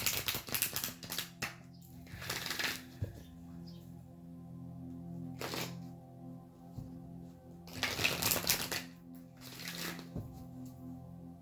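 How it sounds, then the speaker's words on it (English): Cards being shuffled in quick riffling bursts, a few separated by quieter stretches with faint background hum. "This card fell out as I was shuffling."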